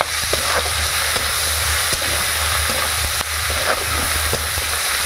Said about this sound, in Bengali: এবার পাঁচ ফোড়ন দেওয়া হচ্ছে,